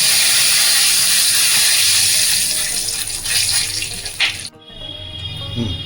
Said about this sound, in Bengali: এরপরে দিচ্ছি আমি তেজপাতা ফোড়ন।